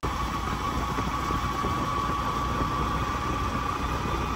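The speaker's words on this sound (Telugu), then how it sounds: "2 బైకుల పైన అయితే వెళ్తున్నాం, ఒకటి హోండా బైక్, ఇంకొకటి వచ్చి బజాజ్ బైక్." Honda and Bajaj motorcycles ride together on a route toward PG Palya forest safari in MM Hills, Karnataka, giving a steady, loud, continuous engine drone with road rumble close to the microphone and no voices.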